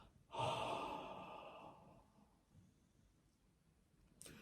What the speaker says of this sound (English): big exhale